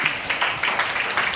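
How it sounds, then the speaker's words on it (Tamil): A second round of audience clapping at a children's ministry puppet show, a steady patter of many hands with small rhythmic bursts, close and even in level throughout, with no voices over it. "இன்னொரு முறை நல்லா ஜோராக ஒரு கைத்தட்டு கொடுங்க பார்க்கலாம்."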